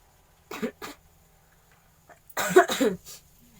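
A person coughs, first two short quiet coughs, then after a pause a louder cluster of three or four harsh coughs, close to the listener in an otherwise quiet room.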